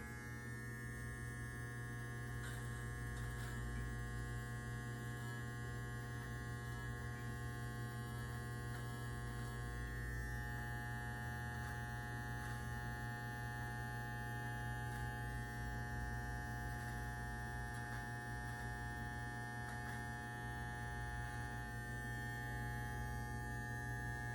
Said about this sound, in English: just use the corner of your trimmer